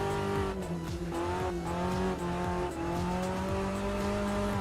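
Race car engine in a sim racing game, a loud, continuous high-revving whine whose pitch climbs and drops with gear changes, with tire squeal and no talk.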